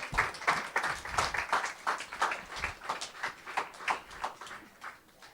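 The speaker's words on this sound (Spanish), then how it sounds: "Dale un aplauso" A church congregation claps steadily for several seconds, a moderate, even patter of many hands with a regular pulsing rhythm and no talking.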